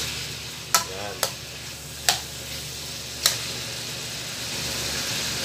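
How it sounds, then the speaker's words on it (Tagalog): Chicken sautés toward golden brown in a pan with a steady, moderate sizzle, broken by four sharp knocks of a utensil against the pan at uneven intervals, and no talking. "Gusto ko ang aking ginigisa is mag-golden brown muna para yung smoothness ng chicken is malasa talaga"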